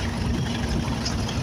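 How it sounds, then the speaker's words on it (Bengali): Trawler boat engine running on the Meghna river, a steady low rumble with broadband water and wind wash, continuous and close throughout. "মেঘনা নদীর মধ্যে ট্রলারটা চলতে আছে,"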